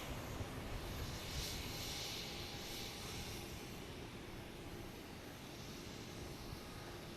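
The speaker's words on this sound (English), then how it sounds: "All right, taking off now. We have JetBlue flight 387 heading to LAX." A JetBlue jet bound for LAX takes off at Boston Logan Airport, its engine roar a steady, broad rumble and hiss heard from a distance, holding level throughout with no voices.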